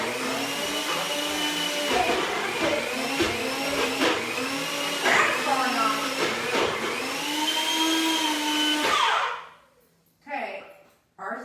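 A blender whirs steadily, loud and close, blending a thick smoothie mixture in a home kitchen, then cuts off near the end to near silence with a brief burst after.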